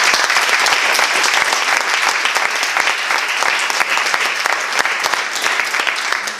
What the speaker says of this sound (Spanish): un fuerte aplauso para ellos porque se lo merecen.